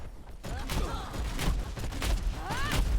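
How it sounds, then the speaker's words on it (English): Junkrat's Frag Launcher fires grenades in Heroes of the Storm, a quick run of punchy launches and bursting thuds with rising whistling tones, loud and close against constant game noise. "Frag Launcher"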